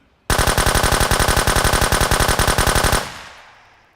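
A long, continuous burst of automatic gunfire from a weapon in the survival shooter Road to Vostok rattles out rapidly and loudly for nearly three seconds, then cuts off and leaves a fading tail.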